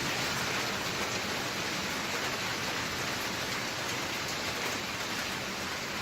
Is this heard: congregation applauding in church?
no